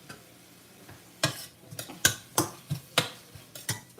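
Frying ingredients for Bengali fish curry in a pan gives a soft, steady sizzle with a series of sharp clattering stirs and scrapes, about one every half second, close by and with no talking.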